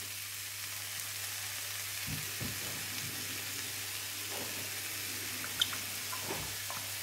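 A pan sizzles steadily as onions fry, a constant hiss with a few soft clicks and taps of cookware now and then.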